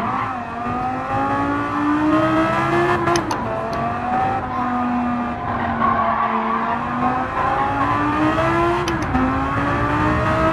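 A Lamborghini in Gran Turismo 7 revving hard, its engine pitch rising and falling through gear changes, loud and continuous, with tire squeal over the top.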